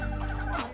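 Close, fairly loud clucking from a chicken in a muddy backyard poultry yard, a short burst of a few throaty clucks with no talking.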